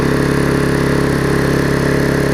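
A small Vulcan 18-inch lawn mower engine runs steadily at full throttle, a loud, even, close-up drone with a fast regular pulse and no pauses.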